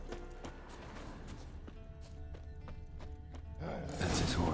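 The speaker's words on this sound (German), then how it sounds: "That's his horse. Scorpion." Hooves of Scorpion, Geralt's horse in the video game Witcher 3, clop steadily at a walk with a neigh, under game ambience and music before a louder burst near the end.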